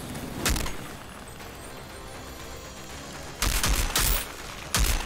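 Sharp gunfire bursts crack out in the video game Outriders, one early shot followed later by a cluster of loud, close reports, with quieter ambient game sound between them and no talk.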